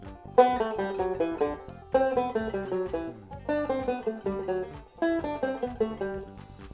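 A guitar plays a six-note scale on a single string in reverse, repeated in four descending runs of plucked notes, each group starting with a strong attack and fading, close and clear.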